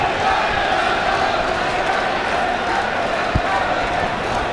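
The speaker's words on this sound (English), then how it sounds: "And the crowd is on their feet." A Muay Thai fight crowd roars and cheers in a steady, loud wall of noise across the whole stretch, with one sharp thud near the end and no clear talk above it.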